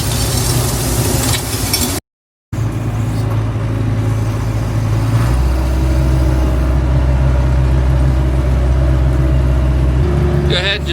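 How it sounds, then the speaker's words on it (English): A combine harvester runs on a farm while corn is shelled from a corn crib, its engine a steady, loud mid-pitched drone that holds constant throughout, with a voice heard over it. "Turn the combine on."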